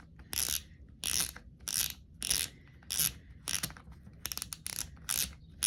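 A fishing reel, a Sougayilang KO 5000, is unscrewed by hand, giving about ten quiet, evenly spaced bursts of ratcheting clicks with short pauses between turns.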